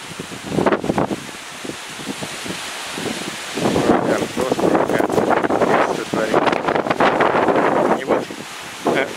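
Hurricane-force wind gusts over garden trellises, roaring and buffeting the microphone in loud, uneven surges with rustling. A voice is heard briefly in between.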